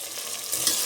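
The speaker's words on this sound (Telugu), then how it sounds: "ఇవి కొంచెం ఆయిల్లో ఫ్రై అవ్వనివ్వాలి" Green chillies fry in oil for a drumstick biryani, giving a steady, close sizzle with faint stirring over about a second.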